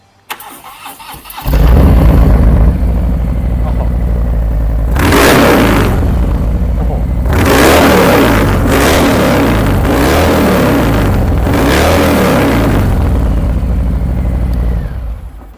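A 2019 Harley-Davidson Low Rider with a Stage 3 engine starts up, settling into a loud, deep idle close by, then revs several times in swelling bursts before dropping back to a rumble.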